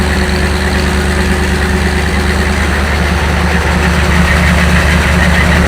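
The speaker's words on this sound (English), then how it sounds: "old 400 Chrysler V8 right there." A Chrysler 400 V8 engine idles steadily with a deep, lumpy rumble, loud and close, holding an even tone throughout with no voices.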